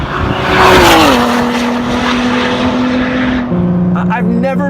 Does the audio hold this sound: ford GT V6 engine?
yes